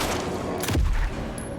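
A short burst of rapid gunfire in a shooting video game, aimed at an enemy's chest, with a heavier boom midway over a steady dense background of game noise.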